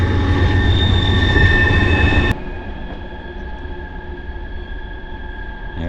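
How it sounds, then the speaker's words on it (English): A coal train rumbles past up close in a West Virginia ghost town, steady heavy noise and a high metallic whine, then drops abruptly to a quieter, lingering rumble. "I'll be right back just as soon as the train passes."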